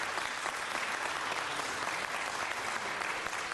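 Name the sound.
applause at a city council meeting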